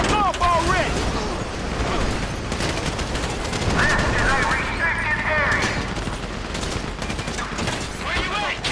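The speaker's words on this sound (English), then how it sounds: "You hear that gunfire?" Dense, sustained gunfire from an intense shootout in Grand Theft Auto 5, with rapid bursts and volleys going on without a break under shouted voices and game sound effects.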